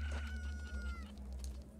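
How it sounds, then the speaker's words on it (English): Chicken clucking in the video game Ocarina of Time, a few short high calls in the first second over a steady low game hum, fairly faint and with no talk. "I hear a chicken."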